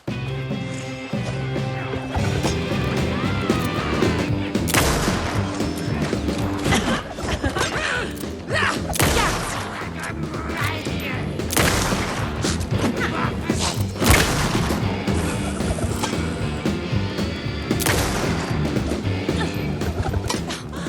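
Gunfire in the Alan Wake 2 Night Springs expansion, a dense stretch of loud repeated shots, crashes and thuds layered over game music and effects, irregular bursts throughout.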